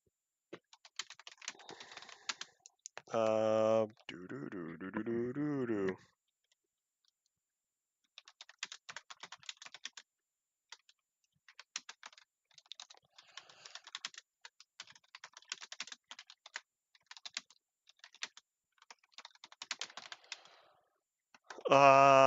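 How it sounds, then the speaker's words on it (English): Fast, forceful typing on a computer keyboard during a modded Minecraft survival session, the clicks coming in irregular bursts and pauses, with short tonal game or voice sounds near the start and end. "You could hear the aggressive typing right here."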